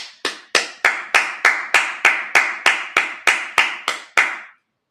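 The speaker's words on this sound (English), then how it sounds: "let's clap it up" Slow, rhythmic clapping at a Sabbath service, about fifteen evenly spaced loud claps in a steady beat, each sharp and close with a short decay, then silence.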